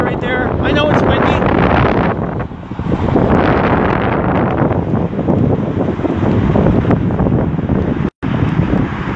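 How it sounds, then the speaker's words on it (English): Heavy wind buffeting the microphone beside a highway, loud and continuous roaring rumble with a brief dropout near the end. "I know it's windy."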